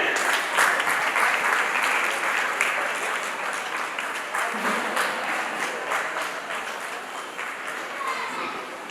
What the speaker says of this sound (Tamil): ஜோரா கைதட்டுங்க